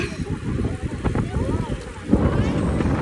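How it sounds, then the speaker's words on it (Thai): Strong, gusty wind buffets the microphone of a cyclist riding outdoors, a constant low roaring rush with a louder gust near the end, partly mixed with voices. "ขอบอกเลยว่าวันนี้ลมแรงมากแรงแบบทั้งรอบเลยทุกคนแรงแบบผิดปกติอะตั้งแต่ออกตัว"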